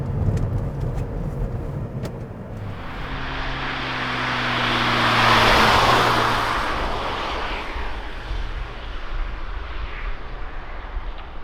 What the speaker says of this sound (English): Right now we're driving on the highway